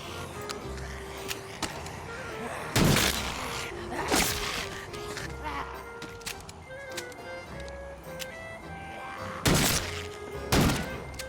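Fat Tuesday, a special weapon in The Walking Dead: Saints & Sinners, fires in four heavy thumping blasts spaced several seconds apart, with clattering handling sounds between shots and a voice talking quietly.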